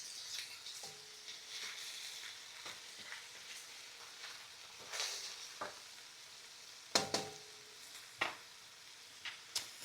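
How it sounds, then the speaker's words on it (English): Shrimp fry in a pan for Lao-style fried rice, a soft steady sizzle with scattered spatula clinks and taps near the end, no voices. "So we'll cook the shrimp and make sure that it is, until it's white."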